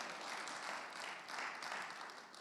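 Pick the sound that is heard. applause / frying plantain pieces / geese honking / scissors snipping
applause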